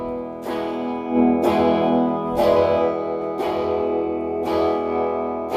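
Electric guitar played through an amp in a studio overdub session, strummed chords ringing out roughly once a second, each struck hard and left to sustain, loud and close with no talk.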